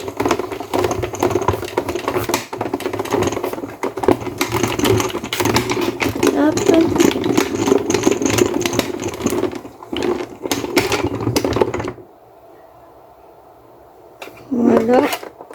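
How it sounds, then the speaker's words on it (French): An electric die-cutting machine runs as scrapbooking paper passes through it, a steady mechanical whirr with clicking under a person's talk, then it stops abruptly, leaving a faint hum. "on va le passer à la machine ici."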